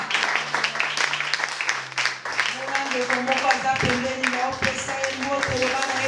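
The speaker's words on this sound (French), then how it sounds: "Est-ce qu'on peut acclamer pour le roi des rois?" A church congregation claps and cheers for Christ during a Sunday service, brisk applause and shouting mixed with voices and music running loud and continuous.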